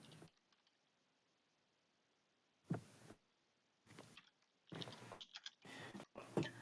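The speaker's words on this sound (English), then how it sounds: "I hope by me typing this up here on the screen" Bursts of computer keyboard typing come in short clusters separated by near-silence, fairly close and moderately quiet, with some mouse-like clicks mixed in.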